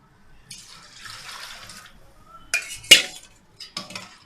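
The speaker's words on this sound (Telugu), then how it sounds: "దానికి పాలు 3 వంతులు వేసుకోవాలి" Coconut milk is poured into a pot for coconut rice, heard as a soft liquid flow, followed by a few sharp metallic clinks and light knocks of utensils against the pot.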